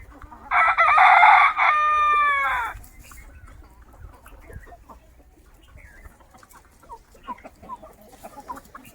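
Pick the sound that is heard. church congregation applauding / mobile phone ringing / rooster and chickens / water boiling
rooster and chickens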